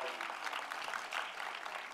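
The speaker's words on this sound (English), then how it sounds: "Give our unions a nice round of applause" Awards ceremony audience at an animation festival gives a round of applause for the unions, brief steady clapping at moderate distance.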